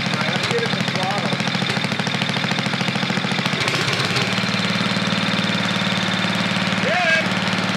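A 1988 Briggs & Stratton 8hp engine on an MTD lawn tractor runs steadily after carburetor adjustments, a loud continuous mid-pitched drone with a faint rise near the end, heard close.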